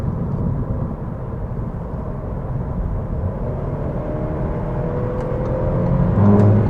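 A 2025 Audi A3 accelerating to overtake on the road, its steady engine and tyre roar loud and continuous inside the cabin, rising gradually toward the end.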